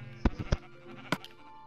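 Sheep bleating in Minecraft: a few short bleats close together, then one more after a brief pause, fairly quiet with no talking over them.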